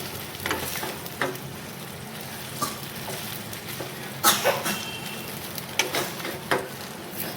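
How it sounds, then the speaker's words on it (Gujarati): Dudhi muthiya are tossed with lemon juice in a hot pan, a steady low sizzle broken by several scraping stirs and spatula knocks at irregular intervals, close and moderately quiet. "હવે તેને મિક્સ કરી લેવાનું છે."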